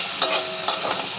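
Spice paste stirred and frying in a pan, a steady bright sizzle with a couple of quick scraping strokes of the spoon, close and alone.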